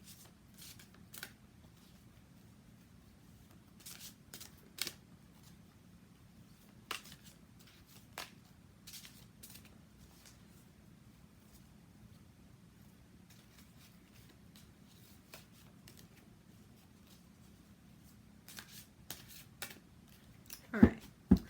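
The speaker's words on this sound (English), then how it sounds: "So I'm going to go ahead and get shuffling here" A Syrian Starseed tarot card deck shuffled by hand, with sparse riffling flicks and card slaps scattered over a quiet background and a louder burst near the end.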